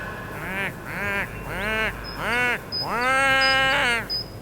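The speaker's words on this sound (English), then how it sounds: "I press the button for the seagulls because it's a beach scene." A stock seagull sound effect from Final Cut Pro for a beach scene: a series of loud, nasal, wailing bird calls, five or six cries in a row, close and clear.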